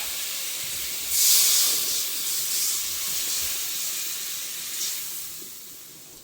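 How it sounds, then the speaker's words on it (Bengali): Hot water poured into a sizzling pointed-gourd curry for tilapia fish sends up a loud burst of hissing steam that gradually fades into a steady simmer, with a second brief puff of hiss a few seconds later. "তরকারি কষানো হয়ে গেছে, এখন একটু গরম জল দিয়ে দেবো"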